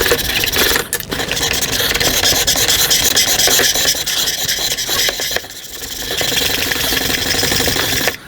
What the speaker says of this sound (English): We have completed our scope lapping process.